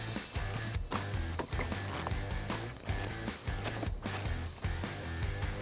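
Ratchet wrench with a 10mm socket rapidly clicking as it backs out underbody panel fasteners on a BMW i4, steady repeated ratcheting bursts up close with no talk.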